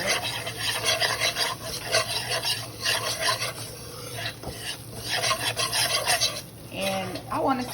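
Homemade gravy stirred in a pan, a continuous close scraping and rasping of the spoon with steady rhythmic strokes, faint sizzling underneath and a steady hum throughout.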